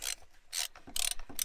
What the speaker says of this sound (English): I'm gonna edit this part out of me using a ratchet and socket.